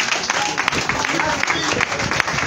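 A church congregation applauds in a dense, steady patter of many hands, close and fairly loud throughout.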